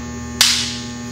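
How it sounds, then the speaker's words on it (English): A Hockmeyer HM 1/16th MicroMill agitator pin locks back into place in the mill tank with a single sharp metallic click. The click rings briefly over a steady electrical hum. "That sound was it actually locking back in."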